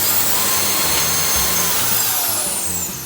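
Kica Jet Fan Max handheld air blower running at high power close by, a loud, steady broadband roar with a rising whine that holds throughout and eases slightly at the end.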